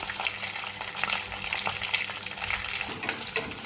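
Peanuts and finely chopped onion fry in a pan, a dense hiss of sizzling with repeated spatula stirs and scrapes close by, steady and fairly loud, without speech.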